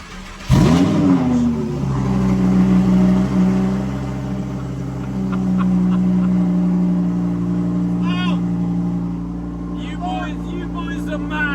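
A supercharged Lamborghini Huracan, the Ken Block KB43 with VF Engineering supercharger, barks loudly up close with a rev, then drops to a deep, steady idle with a supercharger whine while people talk over it.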